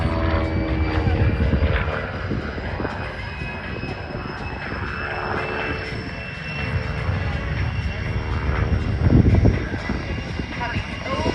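A propeller aerobatic airplane flies a big loop at an airshow, its engine drone steady and loud throughout, swelling slightly near the end.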